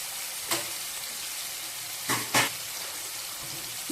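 Cut eggplant frying in hot oil in a pan, giving a continuous hiss of sizzling with a few brief louder bursts as the pieces are stirred or shifted.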